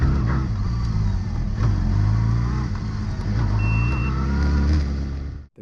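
A 2015 Kawasaki Ninja ZX-6R 636 motorcycle with a 636cc engine holds a loud, steady, close engine drone with slight rises in pitch, then cuts off abruptly at the end.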